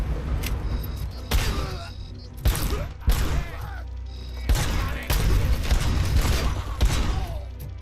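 Machine gun fire in Robocop: Rogue City comes in loud staccato bursts separated by short pauses, mixed with mechanical clanks and creaks, and a voice talks over part of it.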